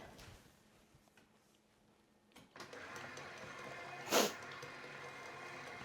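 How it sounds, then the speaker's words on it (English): A large professional stand mixer beats eighteen farm-fresh chicken eggs, a steady moderate whirring that starts partway through after a quieter stretch, with a brief louder clatter near the end. "And this is our large professional mixer."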